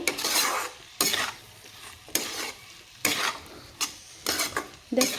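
Peas spiced with turmeric sizzle and fry in a pan while a spoon stirs them in repeated scraping strokes, about five close, loud bursts with quieter frying between them.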